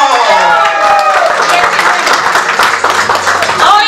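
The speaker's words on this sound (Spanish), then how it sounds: "¡Un aplauso!" A crowd at a long-running community event bursts into applause, with dense, loud clapping and some crowd noise filling the space for several seconds.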